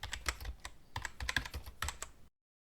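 Rapid clattering keystrokes on a computer keyboard, tapped in quick irregular bursts for about two seconds, close and clear with no voices, then abrupt silence.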